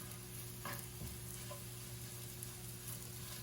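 Tortilla strips fry lightly in chile oil in a pan, giving a faint, steady sizzle with a few soft stirring scrapes and no talking.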